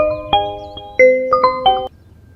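A phone ringtone plays a short electronic melody of several stepped, bright tones, clear and alone, then cuts off abruptly after about two seconds.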